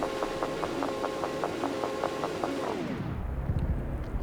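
Spaceship weapons in the video game Cosmoteer fire in a fast, evenly spaced stream of tonal blasts for about three seconds, then sweep down in pitch into a low rumble with scattered heavier booms.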